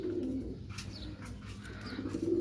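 Pigeons in a breeding loft coo softly, with low murmuring calls near the start and again near the end over a quiet background of faint bird chirps.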